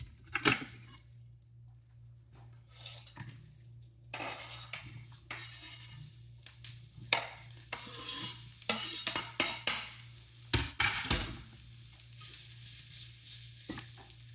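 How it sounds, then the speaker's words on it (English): Vegetables stir-fried in a wok for Kung Pao Chicken after peanuts are toasted in oil, with a steady sizzle, scraping spatula strokes and sharp metallic clinks of utensils against the pan, close up. "after that, we're going to add all of our veggies"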